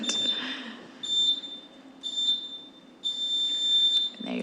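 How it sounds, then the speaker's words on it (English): Repeated electronic beeps from a council meeting speaking timer, sounding in four evenly spaced bursts roughly a second apart, each a steady high tone with a faint room murmur underneath. "You'll see the timer up on the side here and hear all the beeps"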